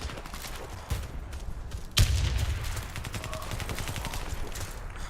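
Automatic rifle fire crackles through a Warface match in rapid bursts, with a sharp boom near the middle, over a constant noisy wash of game sound at moderate level.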